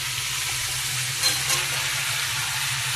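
Mixed vegetables such as green banana and jackfruit sizzle steadily as they are stirred with spices for Bengali pachan, a dense, even frying hiss with a brief clatter of stirring partway through.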